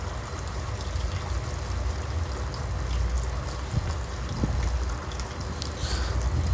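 Water draining out of an abandoned fish pond as it is emptied, a steady broad rushing and trickling wash that continues unbroken throughout with a few faint knocks, no voices.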